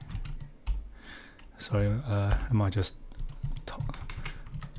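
Keys clatter on a computer keyboard in quick, uneven bursts, slowed by a paper cut on the typist's finger, with someone speaking briefly over the clicks.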